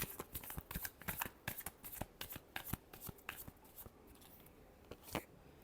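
Tarot cards being shuffled close up, a rapid run of crisp papery riffles and flicks with short pauses, fairly quiet with no voices.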